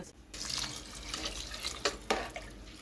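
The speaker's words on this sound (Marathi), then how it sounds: "पाणी घालतो" Water being poured into a cooking pot while making pulao, a continuous close splashing and gurgling stream with a couple of sharper splashes near the end, no talk.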